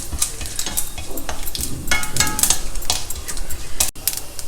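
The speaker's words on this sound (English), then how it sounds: "stir fry till the dals are well browned." Dals, dry red chillies and hing stir-fry in a pan, with a spoon scraping and tapping the metal in quick irregular strokes over a dry, crackling sizzle, close up and without any talking.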